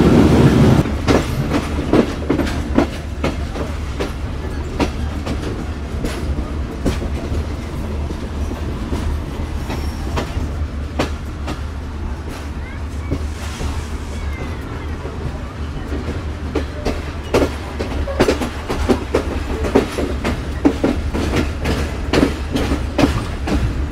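The Titumir Express passenger train runs on the rails between Rajshahi and Chilahati, a loud, steady rolling rumble with repeated rhythmic clickety-clack of wheels over rail joints, heard close from on board.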